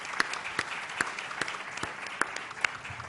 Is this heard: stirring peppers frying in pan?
no